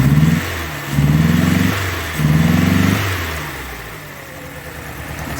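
A 1985 Chrysler New Yorker engine idling roughly and missing on a cylinder, close and loud, with an uneven surging rhythm that rises and falls three times before settling into a steadier low drone.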